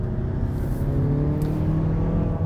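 A 2021 Mazda MX-30 hybrid accelerates from inside the cabin, a steady, moderately loud engine whir with a smooth, even drone and no talking.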